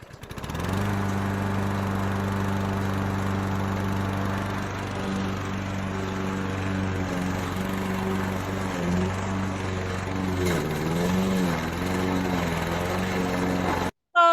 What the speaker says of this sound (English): Oh, lawnmower,